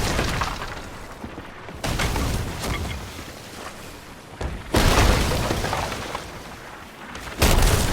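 Heavy enemy cannon shots slam into a ship in a naval video game, three loud crashing impacts with breaking debris spaced a few seconds apart, each decaying into rumbling noise.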